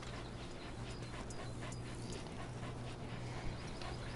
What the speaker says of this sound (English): Good dog. Good dog.